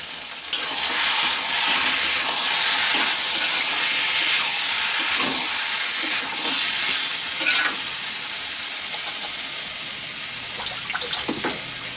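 Chicken masala for chicken kosha sizzling steadily in a pan, a dense bright hiss of frying broken by scattered scrapes and clinks of the spoon stirring, loud and close with no speech.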